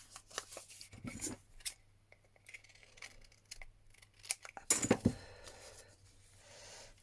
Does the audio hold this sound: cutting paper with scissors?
yes